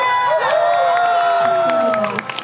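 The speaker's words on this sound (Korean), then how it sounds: "뭐 박수를 주시네요" Concert audience at a K-pop show clapping and cheering between songs, a steady crowd roar under sustained tonal music and a performer's voice.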